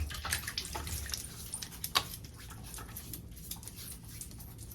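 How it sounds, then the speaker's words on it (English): Water splashes and drips as a face is wetted by hand before a safety razor shave, soft close patters and one sharper splash over a quiet running-water background. "let me wet my face"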